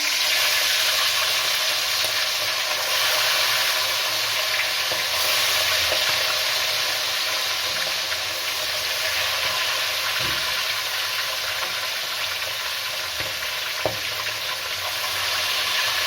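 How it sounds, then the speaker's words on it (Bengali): Fish coated in salt and turmeric fries in hot oil in a kadai, a steady dense sizzle running unbroken and fairly loud from start to finish, with a couple of faint low knocks partway through and no talking. "এবার আমি কড়াইতে মাছ দেব। নুন হলুদ মাখিয়ে রেখেছিলাম মাছে।"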